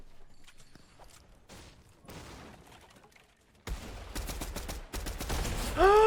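Deagle gunshots during a Fortnite match in a competitive tournament final, heard as scattered sharp shots. The firing grows into loud, dense bursts of gunfire later on, with no voices over it.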